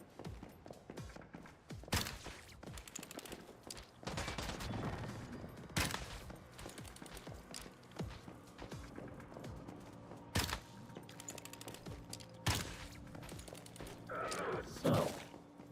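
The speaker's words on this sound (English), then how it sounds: "Who the hell's shooting at me?" Gunfire crackles in a multiplayer survival video game on a winter server, scattered sharp shots and bursts, some near and loud, others distant, spread irregularly over quiet mechanical clatter.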